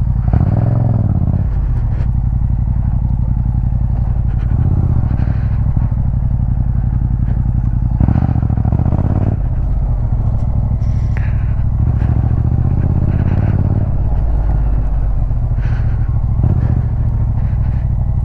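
An MT-07 road motorcycle converted for motocross drones steadily up close, revving and bogging over rough off-road ground with clatter and scraping, continuous throughout.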